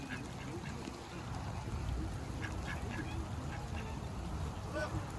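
Geese honk and quack repeatedly among other birds at an outdoor feeding spot, the calls mid-distance over a steady background of wind and rustling noise.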